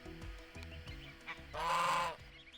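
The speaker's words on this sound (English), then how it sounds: "Claudette is a French Toulouse goose" A French Toulouse goose, a large breed, honks repeatedly at close range, with a run of short calls building to one loud, sustained honk in the middle that then cuts off.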